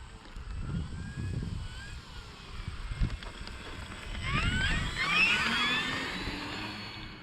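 An FMS P-40B model airplane's electric motor whines through a takeoff attempt, its pitch sweeping up and down as it passes, with wind buffeting and some outdoor noise underneath.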